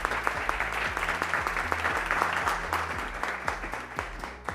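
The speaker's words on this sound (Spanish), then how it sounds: "Fuerte aplauso." An audience at a session on women in innovation and intellectual property welcomes a doctor to the stage with loud, steady applause. Music with a low, pulsing beat plays underneath.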